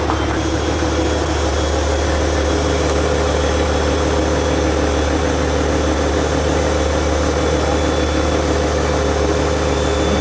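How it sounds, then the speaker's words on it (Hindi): A Range Rover Sport V6 engine, freshly overhauled, runs at a steady idle after starting: a loud, close, continuous low rumble that holds even throughout with no talking over it. "Finally guys, as you just saw, the car has started."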